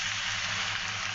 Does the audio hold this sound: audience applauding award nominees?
no